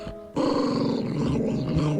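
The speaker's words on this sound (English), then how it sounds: "Those who claim that small dogs can't be dangerous have never stood face to face with such a beast." A small dog growls in the Scott Whiskers video game, a low continuous rumbling snarl that starts abruptly after a brief quiet moment and holds loud and steady to the end.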